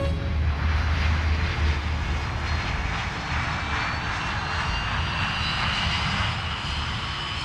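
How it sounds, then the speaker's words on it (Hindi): An airplane takes off after tower clearance, its engine roar steady, loud and close, holding as a broad continuous drone throughout with no voices over it. "होटल ब्रावो 2201, उड़ान के लिए रास्ता साफ है।"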